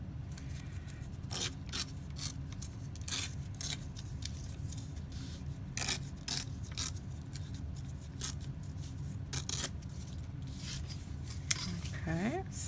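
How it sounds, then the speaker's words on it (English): Paper is torn along a small ruler for a scrappy notepad craft, giving a series of short, close, rough ripping bursts at irregular intervals. "I think I will just pull out a little ruler"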